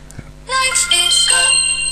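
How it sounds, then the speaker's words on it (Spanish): AirDroid's connection notification plays a short, bright electronic chime on an Android phone, a melodic tone of a second or so. It is loud and close, preceded by a faint click. "Esa es la notificación"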